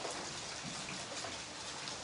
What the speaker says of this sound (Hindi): सुबह से जो बारिश है वो लगातार जारी है